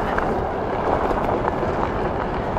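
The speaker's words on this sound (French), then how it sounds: "il y a tellement de vent que j'entends rien" Strong wind roars steadily across the microphone during a fast forest bike descent, a loud, unbroken rush that buries any other sound.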